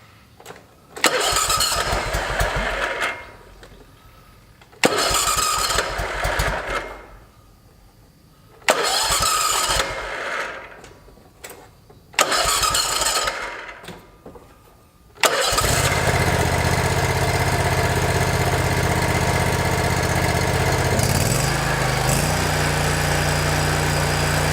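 An Exmark lawn mower engine cranks in four separate pulls of rough sputtering attempts, then catches and runs at a steady loud roar for the remaining ten seconds, close by.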